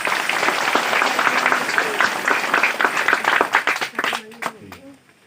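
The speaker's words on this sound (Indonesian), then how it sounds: "tepuk tangan." Church congregation applauding during a pastor's anointing service at a Toraja church mission post, dense steady clapping that fades out near the end as voices and talk take over.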